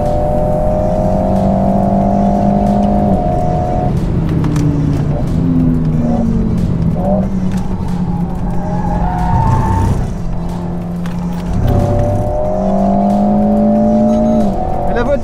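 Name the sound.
Alpine A110 racing and sliding on a circuit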